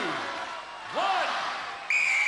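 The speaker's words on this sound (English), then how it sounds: "Michael, you will go on my first whistle." A referee's whistle gives a sustained shrill blast to start a Gladiators arena event, sounding over a noisy crowd in a large hall.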